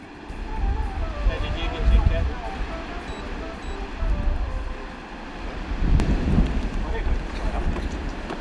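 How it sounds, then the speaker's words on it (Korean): Strong wind buffets the microphone at the Mount Victoria lookout in Wellington, with loud rumbling gusts that rise and fall continuously beneath a person talking. "바람의 도시라는 별명답게 웰링턴의 거친 바람은 유명하다"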